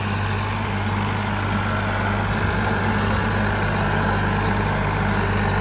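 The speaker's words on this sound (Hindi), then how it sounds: "दमादम खींच रहा ट्रैक्टर।" Farmtrac 60 tractor with a 3136 cc, 50 horsepower engine pulling hard under load, giving a loud, steady, unbroken diesel drone close to the microphone with no talking.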